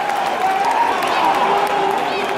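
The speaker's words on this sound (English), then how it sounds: "Listen to the crowd, they're loving it." A large wrestling arena crowd at WWE Survivor Series 2016 cheers and applauds in a dense, steady roar, with voices rising and falling throughout and no break in the noise.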